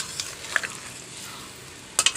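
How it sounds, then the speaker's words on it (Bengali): Fish curry being mixed in a pan with a spatula, a soft low simmering hiss with a few sharp metallic scrapes and clinks near the start and end, and no voices. "আমি তরকারিটা ঢেলে দেবো, দিয়ে একটু খুন্তির সাহায্যে ভালো করে মিশিয়ে নেব"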